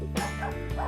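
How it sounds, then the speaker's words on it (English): A little dog barks rapidly at a front door, a quick burst of loud, close, high-pitched yaps filling the whole second. "You got a little dog."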